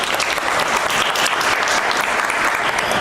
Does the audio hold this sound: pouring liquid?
no